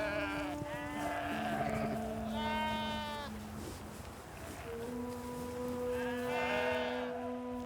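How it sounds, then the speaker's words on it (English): Gotland sheep grazing on open, never-ploughed grassland bleat repeatedly, several overlapping calls near and far over steady outdoor background noise. "The Highland cattle and Gotland sheep grazing here"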